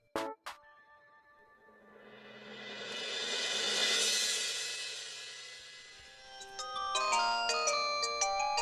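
A phone's ringtone plays: a swelling tonal melody builds and fades, then bright repeated chiming notes follow in a quick rhythm, fairly quiet and close.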